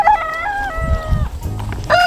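Chickens on a farm, with a rooster crowing in long, stretched calls at the start and again at the end, and low clucking and scuffling between the crows, all close by.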